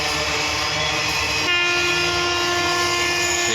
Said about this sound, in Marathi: ते पहा इंजिन तिकडे चाललेले, गेले इंजिन पलीकडे, आणि ही रेल्वे चाललेली आहे